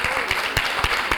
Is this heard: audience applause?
yes